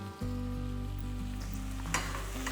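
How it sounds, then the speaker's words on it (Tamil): Masala with turmeric powder and salt sautés in a pan for eggplant curry, a low steady sizzle beneath a constant hum, with a brief scrape of stirring near the end and no talk. "நல்லா வதக்கி விட்டுக்கலாம்"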